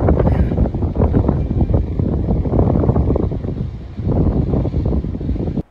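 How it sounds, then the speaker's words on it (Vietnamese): Strong gusting wind buffets the microphone outdoors as a Xiaomi FIMI Mitu drone is blown away, a loud, steady roar of wind noise with brief dips near the end and no talking. "một cơn gió ở đâu rất là lớn nó lùa"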